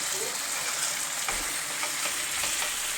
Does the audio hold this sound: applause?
no